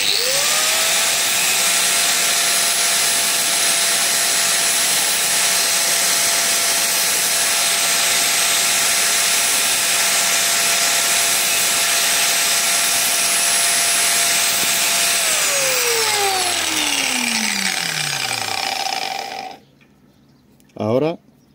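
Power tool cutting and reworking the thread of a metal bolt, a loud steady high whine that holds for about fifteen seconds, then drops in pitch as the tool spins down and stops, followed by a brief short burst.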